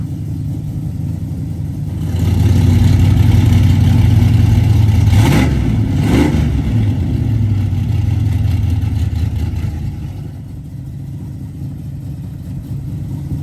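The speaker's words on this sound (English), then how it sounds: "Open up the exhaust real quick." A 455 V8 engine in a 1979 Pontiac Trans Am rumbles deeply, swells into a loud rev, holds with a throaty open-exhaust roar, then eases back to a lower idle.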